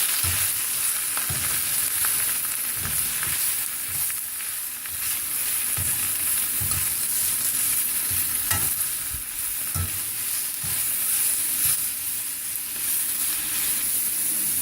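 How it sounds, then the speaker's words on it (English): Greens stirred with tongs in a hot pan as they wilt, a steady frying sizzle with repeated scraping and clanking strokes throughout, close and fairly loud with no talking. "I'm just going to use tongs to stir that around. And we're going to let this wilt down"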